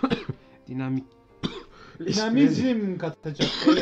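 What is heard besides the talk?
cough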